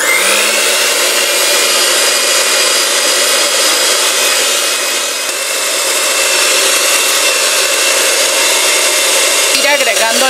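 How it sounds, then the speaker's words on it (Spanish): An electric hand mixer whirs loudly and steadily while creaming cream cheese and Greek yogurt in a bowl for oat crepes, a constant high motor drone with a slight shift in pitch near the end. "y con ayuda de una batidora vas a cremar."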